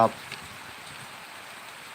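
Steady rain falls during a rainy live stream, a soft even hiss that runs on alone for two seconds after a brief burst of voice at the very start.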